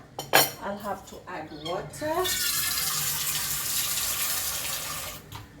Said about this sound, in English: I'll have to add water.